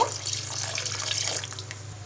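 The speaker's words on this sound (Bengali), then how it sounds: "এবার আরও কিছুটা পানি দিয়ে দিব" Water poured into a pot of snakehead (shol) fish cooking with bean seeds makes a short, steady splashing pour close by.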